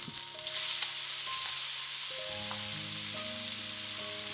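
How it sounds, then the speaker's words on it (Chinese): Ginger and lamb pieces stir-fried in an oiled pan give a continuous, dense sizzle with a few light stirring touches, heard close and steady throughout. "油锅放油，姜和羊肉放进去翻炒。"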